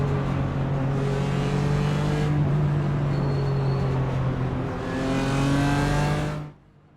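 In the iRacing simulation at Watkins Glen, a BMW M4 GT4 race car's engine drones loudly and steadily during a rolling start, with pitch climbing through gears, the sound cutting off sharply near the end.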